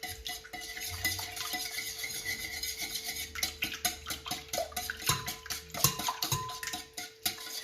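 Chin chin ingredients, sugar among them, are beaten together in a bowl with a utensil. The scraping and rubbing strokes are steady and close, quiet to moderate, with a few sharper clinks against the bowl and no talk.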